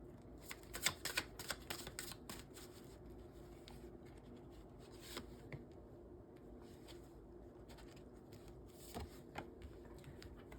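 Tarot cards being drawn and handled, with soft, close, faint papery snaps and rustles in quick clusters near the start and again here and there, over a quiet background.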